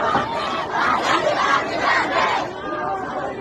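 A protest crowd in Mashhad shouts rhythmic chants in unison, loud and close, in repeated surges of massed voices with no pause between them.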